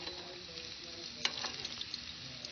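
Fish frying in hot oil in a home kitchen, a steady close hiss and crackle with a few sharper pops, continuous and alone.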